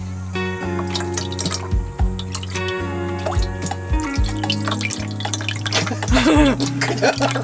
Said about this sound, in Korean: 여기다 물 넣으면 돼